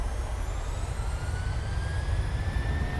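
Jet engines of a PMDG Boeing 737-700 in Microsoft Flight Simulator spool up toward takeoff power, a steady loud roar with deep rumble and rising whining tones sweeping upward, no voices.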